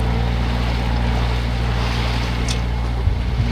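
A sailboat motors under engine power at sea, its steady low drone running continuously with wind and water rushing over it, no voices.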